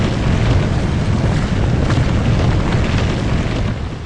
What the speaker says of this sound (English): We just destroyed the last undead building.